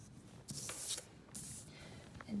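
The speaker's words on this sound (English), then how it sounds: "I'm flipping my paper around." A sheet of drawing paper is turned around on a table, giving a couple of short, soft rustling slides close by, quiet and with no talking.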